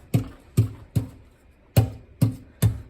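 Stiff bristles of a dried-out acrylic paint brush flicked six times in a loose rhythm, each a short, close crackly scratch with a quick fade, separated by brief quiet gaps.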